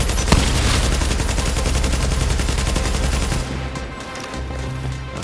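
A deployed turret in The Division fires a loud, sustained stream of rapid automatic shots at close range for over three seconds, then cuts off, leaving a quieter rumbling ambience.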